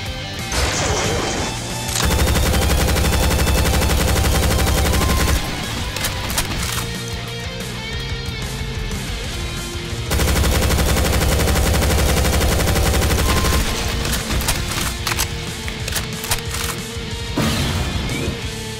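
Light machine gun fire in Project Brutality, a Doom mod, loud sustained automatic bursts with rapid crashing impacts, pausing briefly between long volleys.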